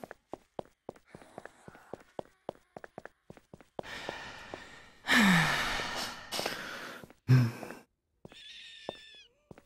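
A female character in the survival game 7 Days to Die snorts and pants heavily between a series of quick footsteps. Several loud breathy bursts and gasps rise above the steady patter of steps.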